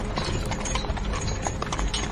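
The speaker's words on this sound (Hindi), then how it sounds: "घोड़े फिर से शांत हो गए और बग्घी चल पड़ी।" Horse hooves clip-clop steadily as a carriage is pulled along a road, a continuous rhythmic clatter of several hoofbeats alone with no voices, close and moderately loud.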